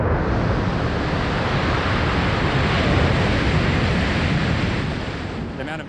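Water deluge system blasting high-pressure water across the SpaceX Starship launch pad, a dense, loud, continuous roaring rush like heavy surf that holds steady and then eases slightly near the end.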